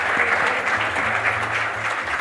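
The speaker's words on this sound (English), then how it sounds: "A big round of applause for our 4 speakers." Loud, sustained audience applause for four speakers at a conference panel on the energy transition and critical minerals, with a low background hum beneath the clapping.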